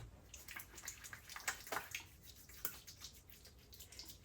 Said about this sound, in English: We're going to add some water to it.